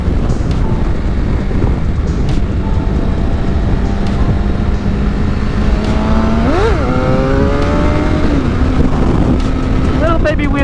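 A Suzuki GSX-R750 motorcycle engine drones steadily at low revs, then rises in a quick throttle blip for a small wheelie around the middle and settles again, with another short rev near the end, all under constant wind buffeting on the microphone.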